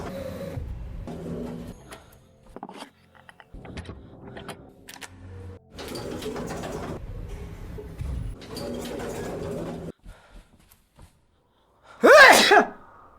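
A single loud, sharp sneeze bursts out near the end, close and abrupt, after stretches of quiet movement and muffled background noise.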